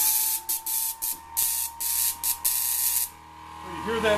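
A spark transmitter with a rotary spark gap runs in bursts, giving a loud rushing hiss with a steady musical tone beneath. The bursts come in an uneven keyed rhythm, then it goes quieter as a voice begins.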